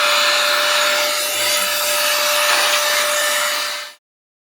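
A Svinkal cordless air duster at full power blows a loud, steady high-pitched whoosh with a whining motor tone, running continuously for a few seconds before cutting off abruptly.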